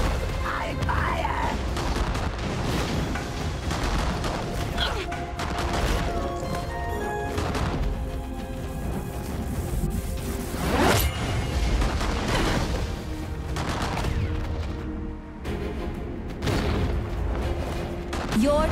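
Gunfire and explosive booms from the arena brawler game Battlerite, a dense, loud barrage of shots and impacts running throughout with recurring sharp blasts over busy game music.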